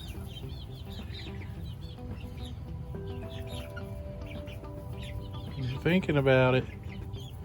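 Chickens at an automatic feeder in a custom coop cluck softly and intermittently, with one louder burst of clucking near the end and a man's brief remark in between.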